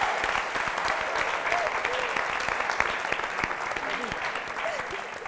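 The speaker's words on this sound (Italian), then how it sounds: "Ha parlato Silvia, applauso!" An audience in an auditorium applauds steadily, dense clapping at a constant level throughout, with a few voices calling out over it.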